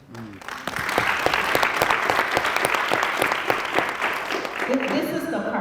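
An audience at a university pre-law program event bursts into sustained applause, dense clapping that swells quickly and holds steady, with a voice briefly audible near the end.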